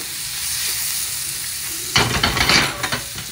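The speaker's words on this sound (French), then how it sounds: "Et on le saisit bien pendant à peu près 1 minute." Chopped shallots and green pepper sautéing in a pan give a steady, bright sizzle, then about two seconds in, stirring adds close scraping and clinks of a utensil against the pan.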